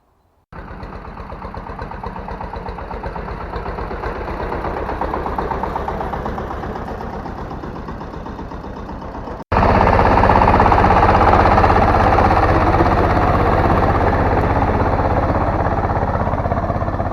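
An SF-200 tractor engine chugging steadily and close while ploughing a potato field, with a sharp shift partway through to a louder, harsher running roar that continues to the end.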